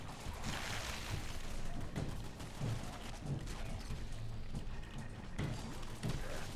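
Rapid turret gunfire in Fallout 4 rattles continuously against a horde of zombies, a dense, loud barrage of repeated shots with booming low thumps layered throughout.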